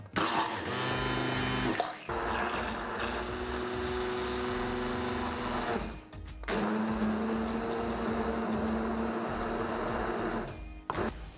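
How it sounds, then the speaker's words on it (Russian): An electric blender whips banana pieces and eggs together in a bowl, a loud, steady whirring drone that cuts out briefly midway, then resumes and runs on. "Банан отправляем в миску и взбиваем все блендером."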